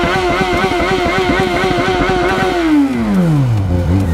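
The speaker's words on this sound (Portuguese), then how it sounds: "Ele pede pra mãe dele cortar giro na moto" A Yamaha XJ6 motorcycle engine revs hard and steady up close, then the pitch drops as it winds down before picking up briefly again.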